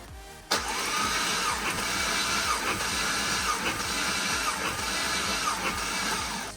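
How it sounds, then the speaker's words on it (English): A Holden LS1 V8 with all spark plugs removed cranks steadily on the starter for a compression test, giving a loud, continuous whirring drone with faint rhythmic pulses that starts abruptly and runs unbroken to the end. "Okay, so we got all the plugs out, and we are ready to do a compression test."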